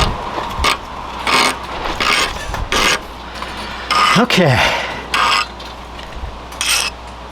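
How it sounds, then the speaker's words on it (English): A metal file skates across a hardened steel hand tool in a series of short, harsh rasping strokes, about eight bursts at uneven intervals, loud and close, with a brief spoken word partway through. "That is the sound of a file skating."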